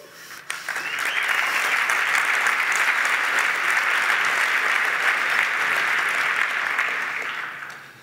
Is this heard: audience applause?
yes